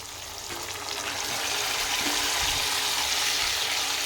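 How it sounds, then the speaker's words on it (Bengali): Marinated chicken drops into hot oil in a kadai and sizzles, the frying hiss swelling from moderate to a loud, steady crackle close by. "এবার আমি ম্যারিনেট করে রাখা চিকেনটাকে দিয়ে দেবো কড়াইয়ে"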